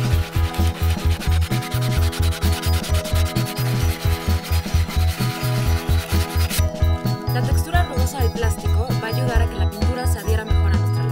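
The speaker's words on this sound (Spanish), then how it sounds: "vamos a lijarla para buscar una textura diferente a la del plástico" Rapid rhythmic rubbing of sandpaper against a plastic bottle to roughen its surface, a close, scratchy back-and-forth stroke repeating steadily throughout.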